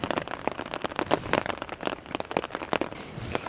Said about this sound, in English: A wee bit of rain.